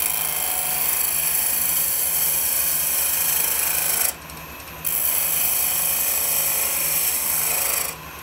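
A spindle gouge trues up the outside edge of a natural-edge wooden goblet spinning on a lathe, giving a steady rasping cut with one brief pause midway and a short dip near the end.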